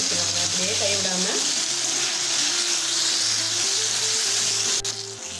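Tomato chutney ingredients sauté in a pan with a steady, broad sizzle, joined by soft stirring, while melodic background music plays throughout.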